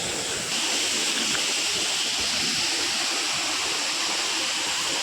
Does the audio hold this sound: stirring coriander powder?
no